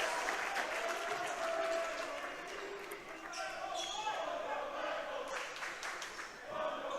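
A high school basketball crowd at Shanley vs. West Fargo cheers and applauds steadily after a turnover, a dense roar throughout with a commentator speaking over it.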